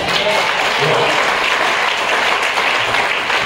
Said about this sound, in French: Acclamons le Saint-Esprit.